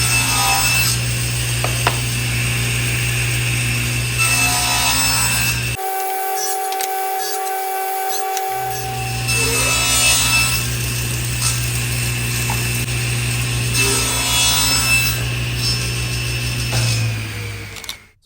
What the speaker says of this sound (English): So I just finished cutting all the segments.